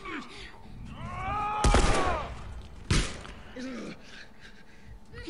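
Revolver gunshots in the video game Grounded, two sharp loud cracks about a second apart amid game effects and vocal groans.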